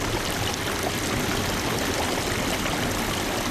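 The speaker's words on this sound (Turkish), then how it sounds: "Fabrikalar bölgesinden geçen Hadımköy deresi kıpkırmızı aktı." A stream runs through an industrial factory district in Arnavutköy, Istanbul, its polluted water flowing red, giving a steady, loud, broadband rush of moving water throughout with no pauses.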